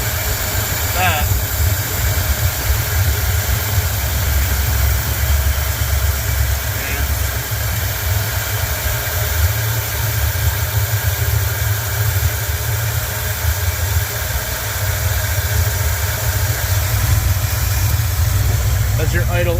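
A 1978 Ford F250 engine idles steadily up close, a continuous low rumble with an even throb that holds without revving throughout.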